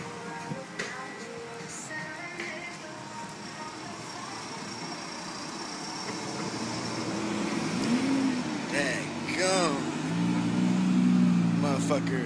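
A Ferrari sports car drives on a road in Arkansas. Its engine grows louder and rises in pitch as it nears and passes, over light traffic noise, while people talk nearby.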